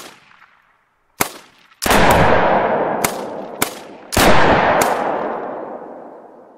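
Six sharp, loud shotgun blasts fired at ducks in the hunting game theHunter: Call of the Wild, irregularly spaced, each with a long rolling echo trailing away, no talking.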